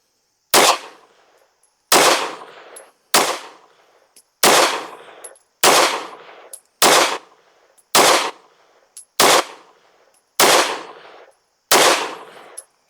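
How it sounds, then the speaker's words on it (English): Anderson Kiger-9C pistol firing 115 grain Remington range ammo at an outdoor target, ten loud sharp shots spaced about a second and a quarter apart, each cracking close with a short decaying echo. "Let's shoot a group at the middle right target."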